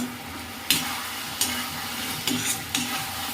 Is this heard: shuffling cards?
no